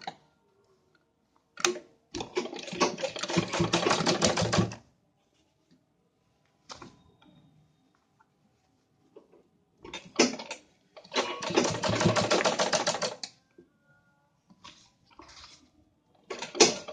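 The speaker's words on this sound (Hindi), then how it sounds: "अब हम इसमें सिलाई लगा लेंगे पहले।" A sewing machine stitches a kurti collar neck in two long runs of steady, fast mechanical whirring, each lasting a few seconds. Brief clicks and handling knocks fall in the gaps between the runs.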